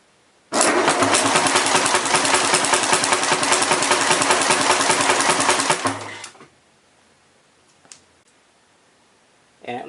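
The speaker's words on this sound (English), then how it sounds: "I'll go ahead and rotate the engine, and we'll see how that does at controlling the startup rattle" A Nissan KA24E engine cranks and runs with a fast, loud timing chain rattle for about six seconds, then shuts off, leaving near silence with a couple of faint clicks.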